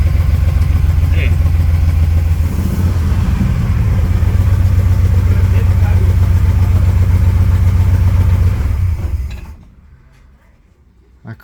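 A 1938 SS Jaguar 3½-litre drophead engine with a dead spark plug idles roughly with an uneven, sputtering rumble close by, then cuts out abruptly into near silence.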